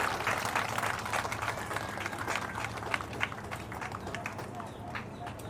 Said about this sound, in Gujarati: આપણે આમંત્રિત મહેમાનો આ બધી બહેનોને તાળીઓના ગડગડાટથી આપણે એમને